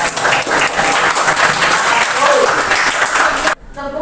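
A room of teachers at a training session applauds after a group presentation, loud dense clapping that cuts off abruptly near the end, with voices mixed in.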